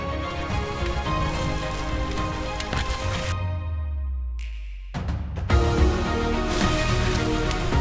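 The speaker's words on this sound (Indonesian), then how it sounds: "Ini kondisi cuacanya tiba-tiba berubah. Ya, hujan." Rain carrying volcanic ash falls near a volcano in Indonesia, a dense steady patter on surfaces that briefly drops away in the middle before resuming just as heavily.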